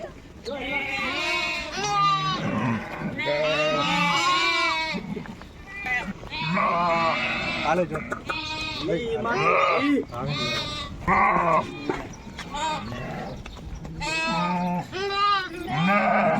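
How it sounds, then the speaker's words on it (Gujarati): Sheep and goats bleat over and over, close and loud, their overlapping calls continuing without a break. "જૈત્રુ પણ ઘેટા બકરા જોડે રમે."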